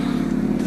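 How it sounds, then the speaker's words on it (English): A loud motorcycle engine drones steadily nearby with a strong low hum, heard briefly while passing. "Oh, that was a loud motorcycle."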